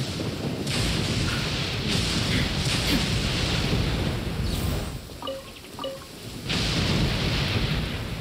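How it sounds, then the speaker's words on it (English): Steady heavy rain from the video game Genshin Impact fills the scene with low rumbles of thunder rolling underneath, briefly easing before the downpour surges back. "Raining, raining."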